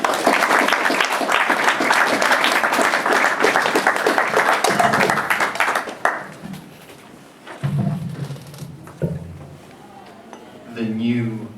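Audience applause welcoming a poet at a London reading, a dense burst of clapping for about six seconds that fades out, followed by quieter room noise and a voice starting to speak.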